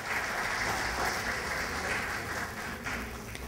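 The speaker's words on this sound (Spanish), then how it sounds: "Un aplauso para ellas" An audience at a recognition ceremony for the district's adolescent and youth council applauds the newly credentialed teen councillors, a dense, even stretch of clapping that holds steady throughout.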